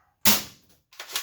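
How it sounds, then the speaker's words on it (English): A Ceda Model S dart blaster fires a single dart with one sharp, loud snapping pop, followed by a short softer clatter. "This is shooting the darts that came with it."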